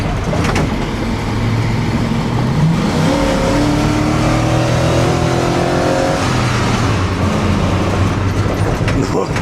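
A ZIL truck fitted with an American V8 engine accelerates from standstill to 60 km/h, its engine note rising loud and continuous through the gears with cab rumble, while someone talks over it.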